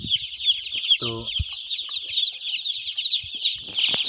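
Broiler chicks in a poultry shed peep in a dense, continuous high chatter. A few low clucks and soft thumps sound close by.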